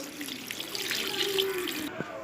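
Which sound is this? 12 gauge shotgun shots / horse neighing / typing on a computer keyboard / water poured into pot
water poured into pot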